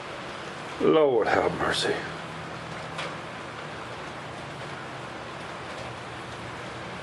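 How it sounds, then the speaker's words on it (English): Steady rain falls outside, a constant soft hiss that runs the whole way through, with someone briefly speaking over it near the start. "It has showed up been raining. I mean, just rain."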